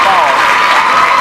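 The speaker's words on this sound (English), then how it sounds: "And everybody in the gym giving Corey Clayton a rousing applause" Gym crowd at a 2004 Fremont Ross vs Sandusky high school boys' basketball game applauding steadily, a dense, loud wash of clapping that fills the short clip, with voices mixed in.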